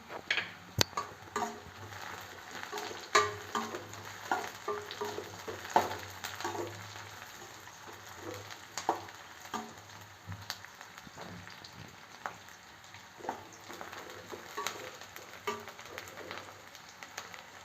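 Dried and green chillies frying in hot oil for egg kurma give off a steady, moderate crackling sizzle dotted with sharp little pops and ticks, with no voices.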